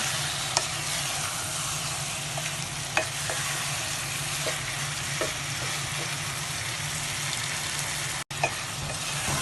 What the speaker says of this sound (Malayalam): നല്ലോണം മിക്സ് ചെയ്യുക